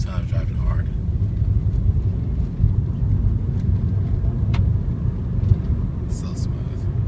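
A 2007 Honda Accord V6, just after a transmission fluid change, drives with a steady low engine and road rumble filling the cabin, faint shifts blending in, while someone speaks quietly over it.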